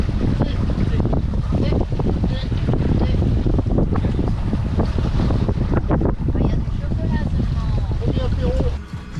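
A sailboat moves through the Atlantic at about five knots, with steady, loud wind roar and rushing water close to the microphone throughout.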